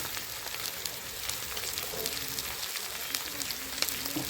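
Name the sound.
frying koika fish with salt and turmeric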